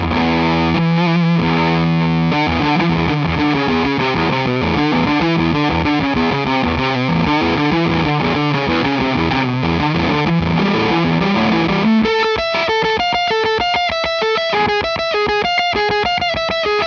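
Loud, heavily fuzzed electric guitar through a Walrus Audio fuzz pedal playing continuous chugging riffs, then shifting to brighter, higher distorted notes near the end, with no talking.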